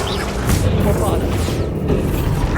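In Hogwarts Legacy, a Bombarda spell goes off with loud, close booming blasts and crashing bursts, about two heavy impacts over a dense rumbling game soundscape.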